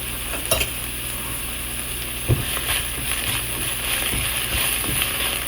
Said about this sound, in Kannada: ಹಸಿ ವಾಸನೆ ಹೋಗೋ ತನಕ ಇದನ್ನ ಕ್ಲೀನಾಗಿ ಫ್ರೈ ಮಾಡ್ಕೋಬೇಕು